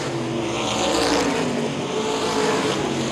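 Modified race cars roar around the oval at Baer Field Speedway on championship night, a loud, steady engine drone with rising and falling whine as the pack passes.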